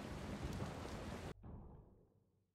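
Heavy rain hisses loudly in the zombie survival game Dying Light, then cuts off suddenly and gives way to a rolling thunder rumble that fades away. No one talks.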